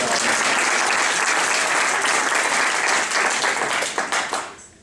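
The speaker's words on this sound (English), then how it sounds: "let me hear you kind of clap it up and make some noise" Graduation audience at a multicultural student ceremony claps and cheers loudly, a dense sustained roar of applause that fades out at the end.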